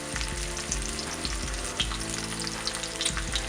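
Sea bass frying in a skillet with a mirin glaze, a loud continuous sizzle and crackle with faint stirring scrapes, close up and with no talk.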